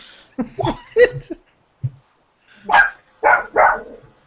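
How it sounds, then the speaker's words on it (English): A dog barks close by in short bursts, a cluster of sharp yips followed by a pause and then a few louder barks. "Sorry about the barking, by the way, that has been sporadic throughout the show."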